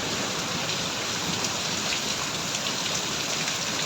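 Heavy rain pours down with strong wind in a constant, dense hiss with no letup, close and loud, with no voices.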